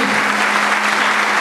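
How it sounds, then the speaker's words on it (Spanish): Audience at a cultural society event in Ciudad Madero clapping together, a steady dense burst of applause, close and loud, lasting only a moment. "vamos a darles un fuerte aplauso."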